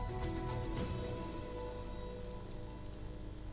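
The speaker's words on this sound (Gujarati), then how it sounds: "પોરબંદરમાં ધોધમાર વરસાદ વરસ્યો હતો" Dense, continuous downpour in Porbandar, India hisses and patters on surfaces, with a low rumbling background and no voices.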